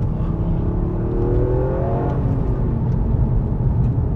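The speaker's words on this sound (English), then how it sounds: "I'm impressed with three-cylinder engines" A 2022 Toyota GR Yaris with a three-cylinder engine pulls hard, its note rising steadily through the revs from inside the car, loud and alone with no talk over it.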